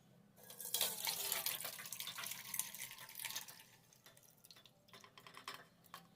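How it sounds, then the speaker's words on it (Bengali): Curdled milk chhena being strained through a sieve, water pouring and splashing steadily for several seconds with trickling and dripping, fairly close and moderately loud, no voices. "এখন আমি এই ছানাটাকে একটি ছাঁকনির মধ্যে ছেঁকে নিচ্ছি।"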